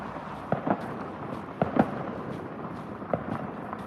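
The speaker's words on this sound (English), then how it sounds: "it's hard to stop all the fireworks" Fireworks bursting during a celebration in China, three distant pops spaced out over a steady background rumble, each a short sharp crack followed by a softer echo.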